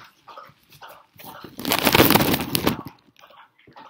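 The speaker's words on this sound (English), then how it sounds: "you can hear my dogs drinking, super annoying" Dogs lap up water from a bowl in a burst of quick, wet lapping and splashing close by, with soft talking before and after.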